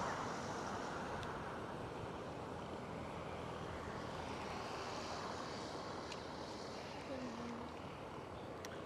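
A small flying drone gives off a steady buzzing whir outdoors, under strong wind or surf noise that runs without a break.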